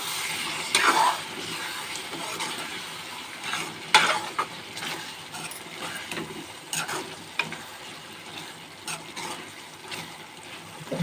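Garam masala being stirred into a mushroom curry in a pan with cinnamon, cloves and cardamom, bringing irregular scraping stirs and a couple of sharper clinks over a low, steady sizzle, with faint background murmur.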